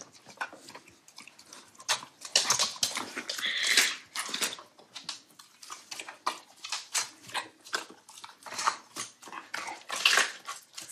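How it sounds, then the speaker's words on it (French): A dog eats a bowl of raw food with fish oil, giving faint, irregular bursts of crunching, tearing and chewing, close by with quiet gaps between bites and no talking. "quand on voit un chien manger comme ça et prendre du plaisir à manger, prendre le temps de croquer, d'arracher, d'avaler"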